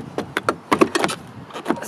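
A Pod Point rapid charger handle is pushed back into its holder, giving a short run of close plastic clicks, knocks and rattles over about two seconds.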